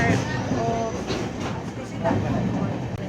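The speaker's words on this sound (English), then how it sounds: "it feels so surreal sitting in the train" A train riding on rails, heard from inside a carriage as a dense, steady rumble with faint rhythmic knocks and muffled voices talking beneath it.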